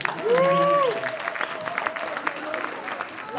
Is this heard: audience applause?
yes